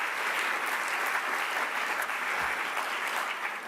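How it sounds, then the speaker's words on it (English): An event audience at a women's networking gathering applauds, a steady, fairly loud wash of clapping that fills the whole moment and tapers slightly at the end. "I just wanted to give everyone a round of applause"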